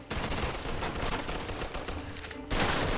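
Dense automatic gunfire from grease guns in the Mafia II video game, a loud continuous rattle of rapid shots for the whole span that grows heavier and more intense near the end.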